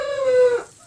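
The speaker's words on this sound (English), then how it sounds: "Those are the last chickens that I hatched in the incubator that you hear." A young Orpington rooster gives a single short crow, loud and close, lasting under a second.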